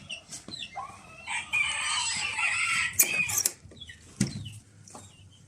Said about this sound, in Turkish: İki tavuk, iki horoz bunlar da.